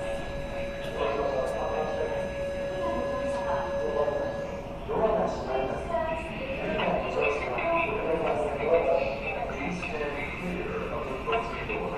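E230 series local electric commuter train between Nakano and Mitaka departing a station, a steady rumble and rolling rail noise with a recorded announcement tone early on, heard from inside the car.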